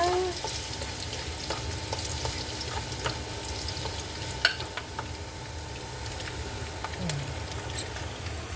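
Ginger sizzles in hot oil in a pan for a fish dish, a steady crackling hiss with a few stirring clinks and scrapes, close and alone.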